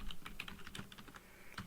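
Typing on a computer keyboard, a quick run of light, irregular key clicks heard close up with no talking.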